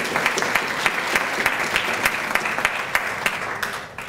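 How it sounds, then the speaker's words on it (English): At the Lillian Smith Book Awards 2014, an audience applauds Mrs. Boynton with steady, even clapping. Distinct individual claps stand out above the crowd, and the applause fades slightly at the end. "Let's give an applause for Mrs."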